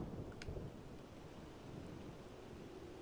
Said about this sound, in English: Dramatic thunder and lightning.